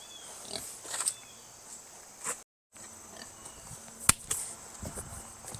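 Pigs grunt and snort intermittently, close by, with scattered clicks and insect buzz in a quiet outdoor setting.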